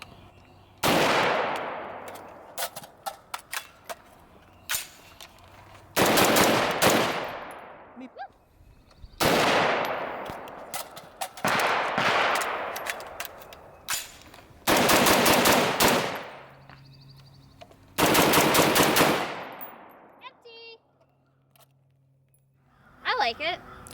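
Loud bursts of rapid semi-automatic fire from a PWS MK116 MOD2 AR-15 rifle chambered in 7.62x39, shot in several strings separated by short pauses, with brief talk and handling sounds between strings.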